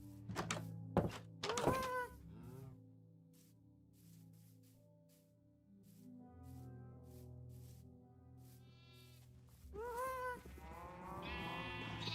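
A few sheep in the video game Minecraft bleat in short bursts, separated by a low sustained drone and some soft thumps, with a louder bleat near the end.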